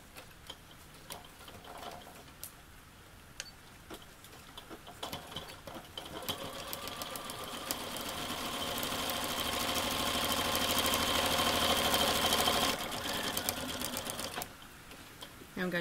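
A sewing machine stitches a seam around the waistband of a pair of shorts. The whirring grows steadily louder and faster, then stops abruptly near the end. Faint talk and handling noises can be heard before the stitching starts.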